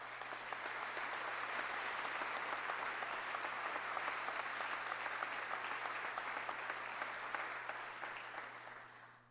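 Sustained audience applause fills a hall at a state judiciary address, steady dense clapping holding at an even level before tapering off at the very end, with no voices over it.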